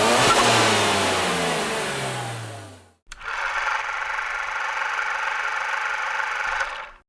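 A car engine revs high and falls away, then after a brief cut a steadier engine drone holds at a new pitch, suggesting a gear shift. The sound is close and loud, with no talking.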